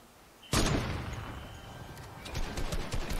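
Assault rifle fire aimed at a supply drop in a battle royale video game, with one sharp, loud report that rings out and decays, followed by a cluster of quicker, fainter shots.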